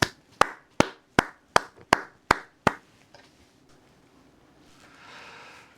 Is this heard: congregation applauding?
yes